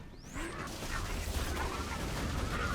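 A turret thrown down and deploying in Borderlands 2, a short mechanical whir and ratcheting clatter over dense game noise, loud and continuous for a few seconds.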